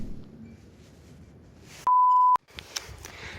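A metal detector sounds off over a deep target with one loud, sustained electronic beep lasting about half a second, rising abruptly from quiet ground noise and cutting off sharply.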